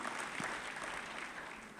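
A church congregation claps during a Sunday worship service, a faint, distant wash of steady applause filling the hall.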